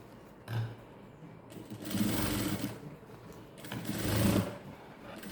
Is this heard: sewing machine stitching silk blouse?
yes